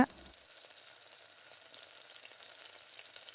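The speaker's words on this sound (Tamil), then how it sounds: "இப்போ ஒரு 2 நிமிஷம் 3 நிமிஷம் அப்படியே தக்காளியை நல்லா கரண்டி நல்லா அழுத்தி விட்டு நல்லா வதக்கி விடுங்க" Tomatoes sauté in a pan for a spicy tamarind curry, pressed with a ladle; a faint, steady frying sizzle runs throughout after a brief knock at the start.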